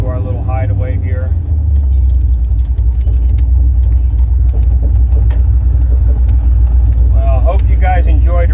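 A 1968 Chevrolet Camaro on the road, a loud, deep engine rumble and drone running continuously from inside the cabin, with someone talking over it at the start and end.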